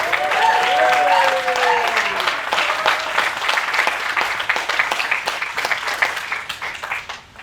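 Outdoor crowd at the Falmouth Juneteenth reenactment applauds steadily for several seconds, with a few voices calling out at the start before the clapping tapers off.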